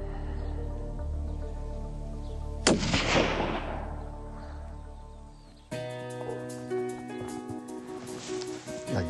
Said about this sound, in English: That was really good for a first shot out of a new gun.